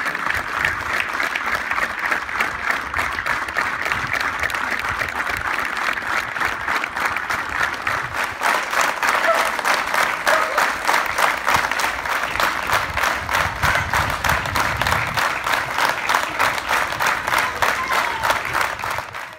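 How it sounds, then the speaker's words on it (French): A rugby club crowd gives a sustained round of applause as a one-minute tribute, dense steady clapping from many hands continuing alone for the whole stretch. "1 minute d'applaudissement."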